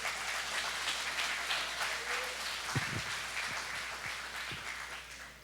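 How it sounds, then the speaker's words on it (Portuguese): Applause for the Lord at a Christian men's congress: a quiet, steady patter of clapping from a church congregation, with a few louder low thumps partway through. "Dê uma salva de palmas ao Senhor."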